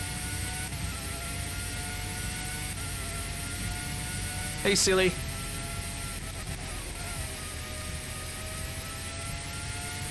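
A Formula 1 race car engine from the PS1 game Formula 1 97 drones steadily with a high, continuous whine from just behind the driver. A brief voice cuts in over it partway through.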